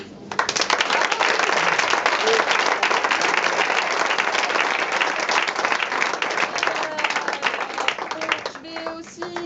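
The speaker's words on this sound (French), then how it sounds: "je pense qu'on peut le remercier et l'applaudir" Audience at a 2016 tournament prize ceremony applauding steadily, with dense sustained clapping throughout and a few voices and whistles rising near the end.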